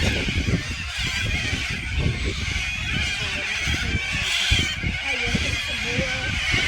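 A large flock of corellas screeches and calls from the trees at sunset, a dense continuous chorus of harsh squawks at moderate distance, with someone talking over it.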